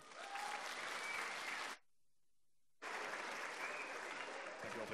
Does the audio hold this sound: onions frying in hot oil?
no